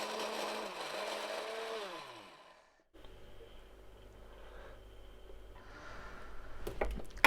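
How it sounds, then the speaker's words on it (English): A blender chopping garlic and ginger whirs loudly with its pitch shifting as it chops, then cuts out abruptly, followed by quieter kitchen clatter. "I've got my garlic and ginger in a blender like this."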